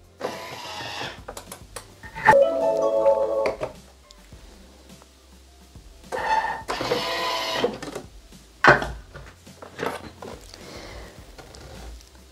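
A Thermomix Bimby food processor blends Pan di Stelle biscuits at speed 3, giving several bursts of whirring, rattling grinding separated by quieter pauses, moderately loud and close with no talking.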